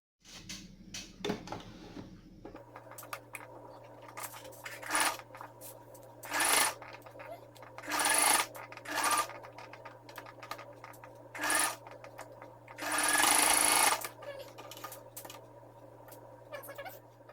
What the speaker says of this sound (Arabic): دابا غادي ندوز نخيط من هاد الجهه ومن هاد الجهه